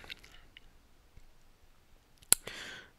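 A computer mouse gives a single sharp click, close and crisp, standing alone against near silence, with a few faint handling ticks around it.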